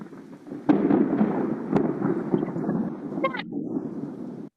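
A crack of thunder breaks sharply, followed by a rolling, rumbling roar that slowly fades, with a few further sharp snaps near the end.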